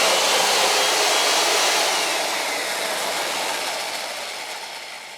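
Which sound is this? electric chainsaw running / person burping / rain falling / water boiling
electric chainsaw running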